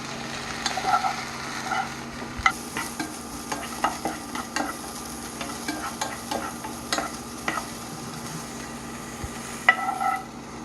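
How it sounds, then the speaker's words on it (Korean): Beef in bulgogi marinade is stir-fried in a large frying pan with a steady sizzle and repeated scraping and clacking of the utensil, up close and with no voices. "고기를 볶을게요."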